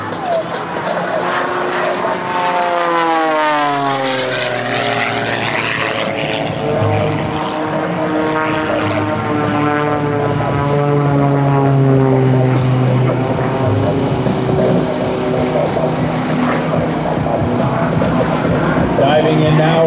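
Aerobatic propeller airplane flying a double hammerhead at a military open house air show, its engine note sweeping up and down in pitch as it climbs and dives, loud and continuous under a commentator's voice.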